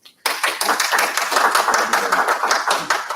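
Clapping from a seminar audience saluting a cybersecurity speaker: a steady burst of close, dense handclaps that starts abruptly after a brief pause and keeps an even level throughout, with no talking.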